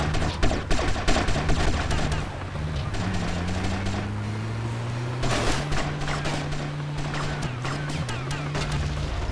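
Rapid bursts of GTA Vice City gunfire crackle in quick sharp clusters, with a low droning tone running underneath and brief heavier blasts midway.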